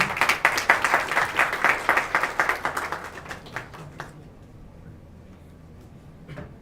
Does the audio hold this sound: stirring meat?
no